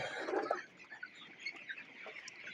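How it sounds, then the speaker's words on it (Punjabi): Farm chickens crowd together at feed pans, eating and climbing over one another, with a quiet, continuous murmur of clucking from the close-packed flock. "ਤੇ ਮੁਰਗੇ ਫੀਡ ਖਾ ਰਹੇ ਨੇ ਇੱਕ ਦੂਜੇ ਦੇ ਉੱਪਰ ਚੜ ਚੜ ਕੇ"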